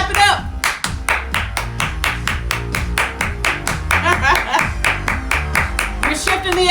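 Audience claps in a steady, rhythmic beat at a motivational morning gathering, loud and close, with music running underneath the evenly spaced claps.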